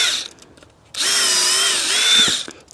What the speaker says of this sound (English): I've got my drill and it's not very powerful